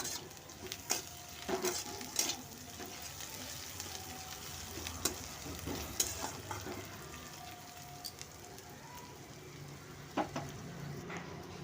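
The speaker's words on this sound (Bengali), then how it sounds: "পেঁয়াজ কুচিগুলো দিয়ে হালকা হালকা ভাজা হয়ে এলে দুটো তেজপাতা আর দিয়ে দেবো পাঁচফোড়ন" Chopped onions with bay leaves and panch phoron fry in oil for a Bengali cauliflower fish curry, giving a steady soft sizzle broken by small pops and stirring clinks, close and fairly quiet, with no talk.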